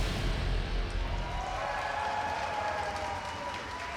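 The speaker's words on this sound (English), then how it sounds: "Crowd always gets loud when the Unicorns of Love are on the Rift." A live League of Legends esports arena crowd at a Splyce versus Unicorns of Love match, a loud sustained roar of cheering and clapping that fills the whole stretch and eases slightly toward the end.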